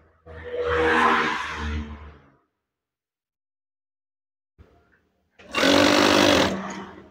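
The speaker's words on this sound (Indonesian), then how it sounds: "Kemudian jahit lagi." Sewing machine stitching curtain fabric while forming gathered waves at the middle tie of a curtain, two loud, close bursts of steady whirring separated by a pause with a faint knock.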